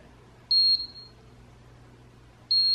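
An Irresistible Me Moonstone automatic steam curler gives two short, high electronic beeps close by, then a pause before another two begin, over a faint background hum.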